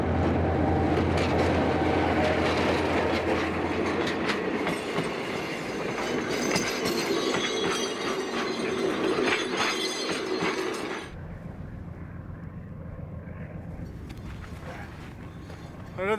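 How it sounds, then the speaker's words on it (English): A train rumbles past loudly with clattering wheels and a bright rushing roar, then drops to a lower, steadier rolling noise as it continues. "this train shows no sign of stopping or even slowing"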